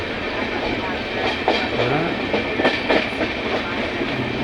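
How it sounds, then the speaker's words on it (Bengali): Passenger train on the Kolkata to Bangalore route gathering speed, heard from inside as a loud continuous rumble with rhythmic clickety-clack of the wheels and faint voices in the carriage. "ট্রেনের স্পিড ধীরে ধীরে বাড়ি যাচ্ছে।"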